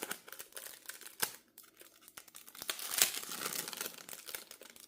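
Paper envelopes from a small-business package being opened, with crisp crinkling and tearing, sharp rips and rustles coming in quick bursts, close and fairly loud with no talking.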